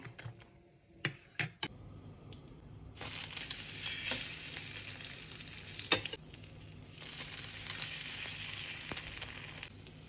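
Egg-dipped bread toast fries in a pan with a loud, steady sizzle that starts after a few sharp clicks and knocks, broken briefly mid-way, close and without talk.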